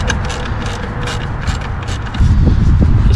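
An 8 mm bolt is snugged down by hand tool on a 2012-2017 BMW F30 328i engine during intake valve cleaning, giving a close, steady run of fine ratcheting clicks that grows louder near the end.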